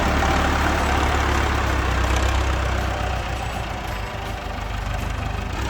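A Massey tractor engine runs as it is driven, a continuous low diesel rumble with a steady knocking pulse, holding fairly loud and even throughout.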